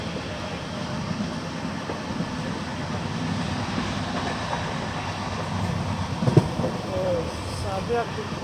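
Deekshabhoomi Express passenger train on an LHB rake rolling along the tracks near Parli, a steady low rumble of wheels and carriage noise throughout, with a few brief clanks and squeals toward the end.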